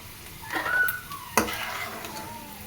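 Peanuts stirred and frying in hot oil for a mango chitranna rice dish, with a low sizzle under scraping strokes of a utensil against the pan and one sharp clink partway through.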